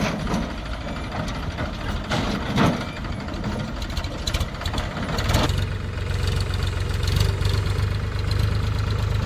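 A Powertrac 443 tractor hauling a trolley loaded with 80 quintals of straw chugs along a rough road, a continuous mechanical engine rumble with rattling and clanking that swells louder toward the end.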